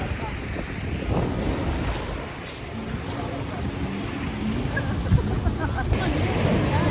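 Waves break on Acuaverde Beach at Laiya, Batangas, a rushing surf wash mixed with heavy wind buffeting on the microphone, and voices talking faintly underneath.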